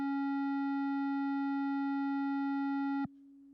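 A pure sine tone from an Ableton Operator synth with an LFO modulating its filter holds steady with bright harmonics for about three seconds, then abruptly drops to a plain, softer fundamental.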